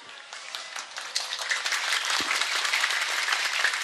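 Audience applause at an Islamic comedic sermon, a dense wash of many hands clapping that swells after the first second and holds steady and fairly loud to the end.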